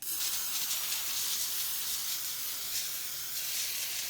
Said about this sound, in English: We're gonna spread with non-stick spray.